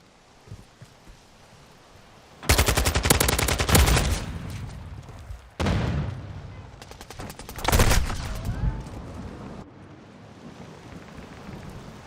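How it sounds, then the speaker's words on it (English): Bursts of automatic gunfire in a modern military first-person shooter, loud and close, with a long rattling volley, a shorter burst, and another rapid volley separated by quieter gaps of ambient background. "I'm taking fire!"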